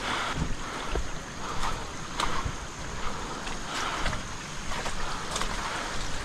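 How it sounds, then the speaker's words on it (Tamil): Water rushes and churns steadily in a forest off-road setting, sounding like a ship's wake, loud and continuous with wind buffeting the microphone and scattered knocks and splashes. "தண்ணி சவுண்டு தானடா எனக்கு கேட்குது."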